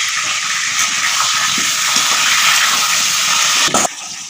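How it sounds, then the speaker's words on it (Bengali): Potatoes frying in a pan give a continuous loud hissing sizzle close by, holding steady before dropping off abruptly near the end. "আর এদিকে আলু ভাজতে বসিয়েছি, আলু একটু ভেজে নিচ্ছি।"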